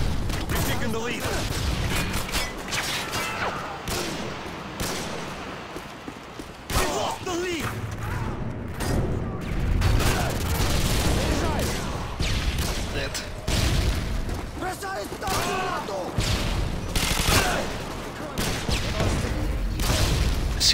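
MG4 light machine gun firing explosive rounds in Call of Duty Modern Warfare 2, with rapid bursts of gunfire and heavy booming impacts repeating across the whole stretch, loud and dense, while someone talks over the shooting.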